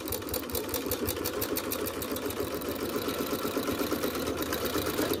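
Sewing machine stitching slowly and steadily over thick denim seams while a blue jean wine bottle bag is made, a close, even motor whir with rapid needle ticks running the whole time, no voices.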